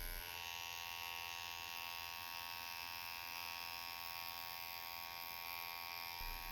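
A tattoo machine drones in a constant high-pitched electric buzz while fine-line flowers are tattooed, steady and close throughout, with no talking.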